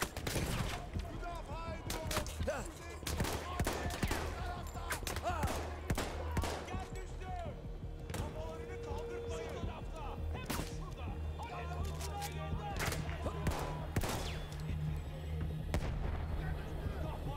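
Gunfire in the World War I shooter Battlefield 1, dense sharp shots and rattling bursts cracking over a steady rumble of battle, loud and continuous throughout with occasional speech mixed in.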